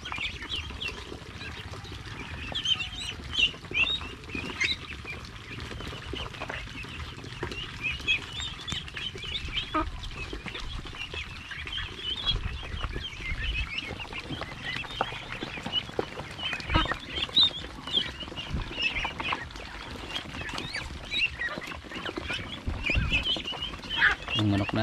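Chickens cluck and peck intermittently nearby against a soft outdoor background, with scattered light tapping throughout.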